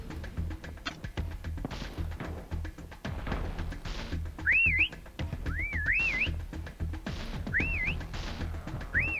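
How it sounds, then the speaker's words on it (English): Prop hunt whistle in the COD Mobile video game, a rising-falling two-part tone sounding three times at regular intervals over busy gameplay noise of taps and thuds. "Next whistle in 10 seconds"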